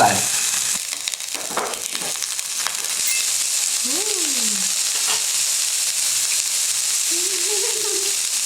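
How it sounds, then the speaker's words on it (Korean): Aged meat sizzles steadily on a hot grill, a constant close frying hiss throughout, with a few soft clinks and brief voices talking over it. "오늘은 선물 들어온 고기를 굽는 날"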